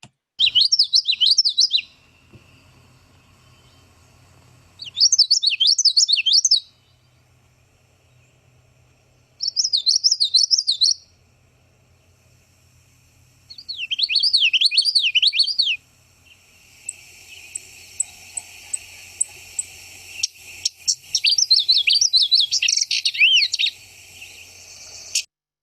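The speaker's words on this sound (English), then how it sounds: "you could still hear that witchety, witchety, witch" A small songbird repeats a rapid, rolling witchety-witchety-witch phrase in five separate bursts a few seconds apart, clear and fairly close, with faint insect or other bird chirps filling the background later on.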